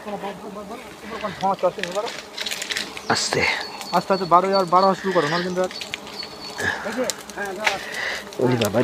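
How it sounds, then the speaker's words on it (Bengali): Honey bees swarm around a wild beehive being cut in the Sundarbans forest, a faint buzzing hum beneath loud, excited talking from several people. "ক্যামেরা হয়তো দেখা যাচ্ছে না কিন্তু প্রচুর মৌমাছি"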